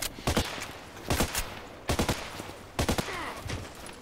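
Gunfire in a shooting video game comes as four sharp clustered bursts of shots spaced about a second apart, fairly loud over a low background hum.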